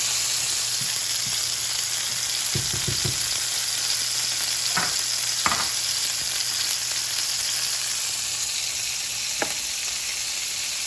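Onions frying in a pan with grease, a constant close hiss of sizzling with a few scattered knocks and scrapes of a utensil, no talking.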